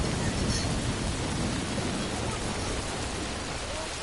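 Heavy rain in the video game Death Stranding, a dense, constant broadband hiss of downpour filling the whole stretch with no break.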